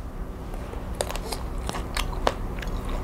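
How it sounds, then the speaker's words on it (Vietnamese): Someone bites into and chews a whole Taiwanese kumquat, giving close, sharp crunching snaps over a steady low background hiss, with a few crisp bites spaced irregularly. "Ăn luôn nguyên trái nó mà đã, cắn hoài."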